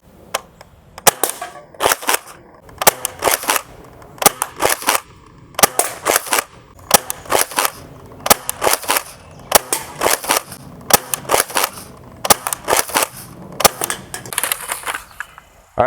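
Nerf Rival Hypnos blaster firing foam balls, a long series of sharp, loud pops in quick bursts with short pauses between, crisp and close.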